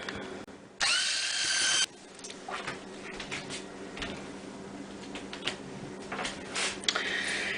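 Vegan butter cookie mixture being whipped with an electric mixer, starting with a loud steady whir for about a second, then continuing as softer uneven whirring and scraping with clicks against the bowl, close by.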